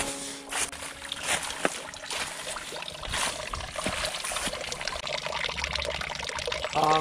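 Running water near the west gate of Sangdang Fortress on a very cold day, a continuous close splashing and gurgling flow with some brief clattering, no talking.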